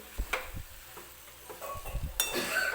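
Spoon scraping and tapping in a pan while spiced mashed potato filling for aloo cheese paratha is stirred, light irregular clicks and scrapes close by.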